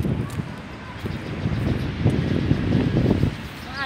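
Wind blowing outdoors during a walk, a steady rough rush buffeting the microphone throughout, with faint rustling and no clear speech.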